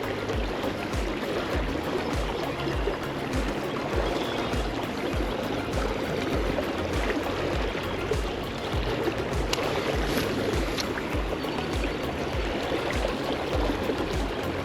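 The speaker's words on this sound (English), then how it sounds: "this water's kind of fast" Fast current of the DuPage River near Plainfield, Illinois rushes around a wading angler in a steady, dense wash of water noise, close and continuous throughout with no talking.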